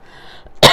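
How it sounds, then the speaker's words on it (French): A single short, sharp cough bursts out near the end after a brief quiet stretch, close and fairly loud. "je me mets à tousser d'un seul coup"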